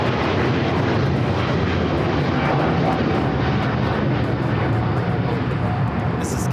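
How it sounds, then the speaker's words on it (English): A Cathay Pacific Boeing 777-300ER takes off from LAX bound for Hong Kong, its jet engines a loud, steady, broadband roar that holds unbroken throughout. "This is Cathay Pacific A85 taking off to Hong Kong on the 777-300ER"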